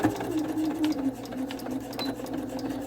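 A sewing machine stitching fabric while gathering, a steady close mechanical whirr with a rapid needle rhythm throughout, loud and alone.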